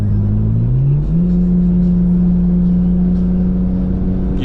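Car engine accelerating into its power band on a windy day, a steady close drone whose pitch steps up after about a second and then holds, with wind rumble throughout.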